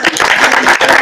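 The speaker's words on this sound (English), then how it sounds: "So another round of applause." An audience at a fintech meetup gives a brief round of applause, a dense burst of many hands clapping together, loud and close.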